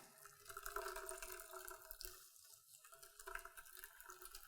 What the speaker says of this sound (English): And then we're gonna squeeze it through this nut milk bag.